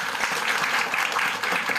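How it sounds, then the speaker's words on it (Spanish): A school audience at a British High School presentation claps in a brief, dense burst of steady applause, with faint voices mixed under it. "Aplausos, chiquillos."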